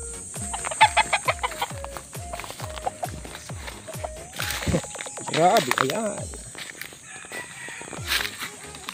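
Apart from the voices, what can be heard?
hen with newly hatched chicks clucking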